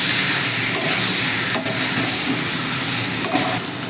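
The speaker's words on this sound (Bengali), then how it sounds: "এবার আমি মাছের ডিমটা দিয়ে দিচ্ছি।" Fish roe fries with spices in an oiled pan for a Bengali dopeyaza, a loud, continuous sizzle broken by a couple of brief stirring scrapes, close up and without voices.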